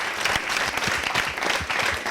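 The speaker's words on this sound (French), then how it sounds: "on va l'applaudir pour ça" Audience applause at a French-language comedy show, a dense, steady patter of many hands clapping throughout, fairly loud and without a break.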